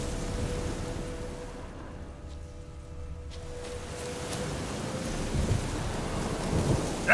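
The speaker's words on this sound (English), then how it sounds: "A storm, damn it." A thunderstorm in The Witcher 3 video game: steady heavy rain hisses on surfaces while deep thunder rolls and rumbles through the middle, building again toward the end with no one speaking.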